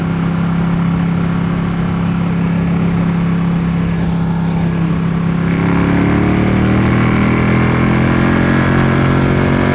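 Steady, loud engine drone from a Ducati Panigale sportbike ridden at highway speed, with continuous wind and road rush; the tone rises slightly partway through as the rider accelerates.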